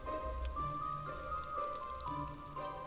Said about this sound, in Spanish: Una fina lluvia caía sobre el lugar.